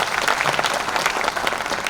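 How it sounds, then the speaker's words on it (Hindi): A crowd at an outdoor government stage event in Jhabua, India, bursts into loud, dense applause, many hands clapping rapidly and continuously without a break. "झाबुआ जिला प्रशासन भाई एक बार जोरदार ताली बजाया।"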